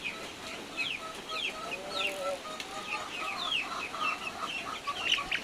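Leopard-patterned Plymouth Rock chickens cluck and chirp continuously over a constant farmyard background hum, with several birds heard at moderate distance.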